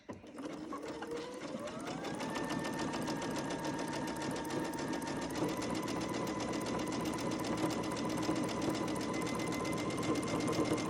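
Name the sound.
sewing machine stitching cloth face masks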